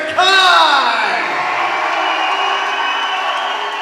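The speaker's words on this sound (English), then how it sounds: "Crowd here going wild for Kurtis Mackie." A big fight-night crowd roars and whoops for Kurtis Mackie ahead of his bout with Nasrat Safi, a loud, sustained wall of cheering that surges at the start and holds steady throughout.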